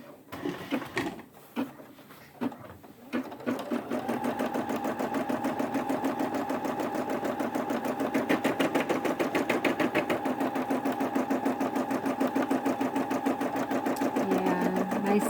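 A Brother SE600 embroidery machine starts up after a few clicks and handling noises, then stitches with a fast, steady mechanical whirring and rapid needle pulse, close and continuous to the end.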